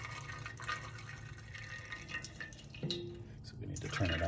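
First runnings of beer wort for a pumpkin pie beer drain from a grain bed, a soft steady trickle and drip of liquid with occasional splashes, fairly quiet and close.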